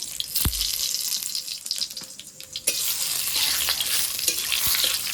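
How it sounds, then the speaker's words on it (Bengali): Dry red chillies, bay leaves and whole cumin drop into hot oil for a pangas fish fry, a loud dense sizzle that surges suddenly midway and keeps crackling steadily, with a few clinks of utensils. "এবার তেলটা গরম হয়ে গেছে, এবার ফোড়নে দিয়ে দেবো 2টো শুকনো লঙ্কা, 2টো তেজপাতা, কটা গোটা জিরে"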